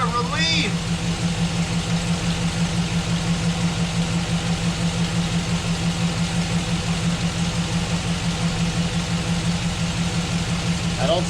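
A swapped-in V8 idles in a Chevrolet Silverado pickup, steady and even with a low, close engine drone throughout and a brief metallic clatter at the start.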